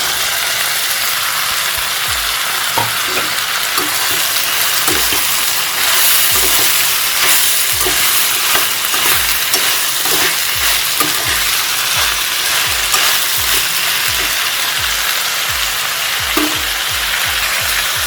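Capsicum frying in a pan for a capsicum kootu gives a loud, continuous sizzle with repeated rhythmic scraping strokes of a spatula running under it from start to finish.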